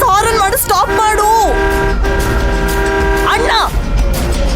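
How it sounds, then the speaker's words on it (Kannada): A car horn blares in one long, sustained honk that holds steady before cutting off, loud and close, with people talking over and around it. "ಪ್ಲೀಸ್ ಹಾರನ್ ಮಾಡಿ ಸ್ಟಾಪ್ ಮಾಡು"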